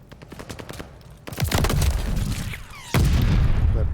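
Call of Duty gunfire in a competitive college esports match, rapid rattling shots building into loud, dense bursts with a heavy boom-like report partway through, close and continuous.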